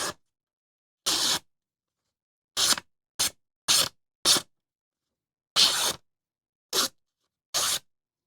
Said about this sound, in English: I think I have a little piece of paper over here. Let's see if we can cut this.